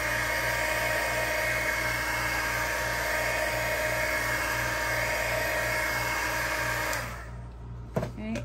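A hair dryer drying paint on an ornament blows with a loud, steady whirring roar close by for several seconds, then switches off, leaving faint handling noises.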